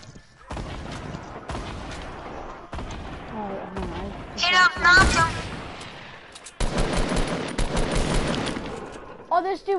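Rapid bursts of video game shotgun fire, loud and close, with sharp blasts and scattered shots interrupted by brief pauses, under excited talking.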